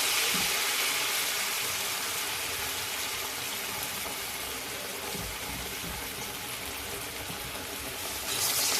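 A potato vada for fasting is frying in hot oil, giving a steady, loud, hissing sizzle that fills the whole stretch with little change.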